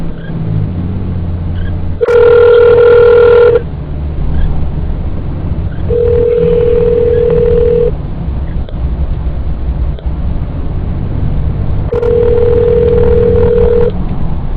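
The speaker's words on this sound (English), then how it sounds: "Calling Byron. Mobile calling." A phone call rings through a car's Uconnect hands-free system: loud electronic ring tones sound in three separate bursts, roughly every five seconds, over steady road and engine rumble inside the moving vehicle.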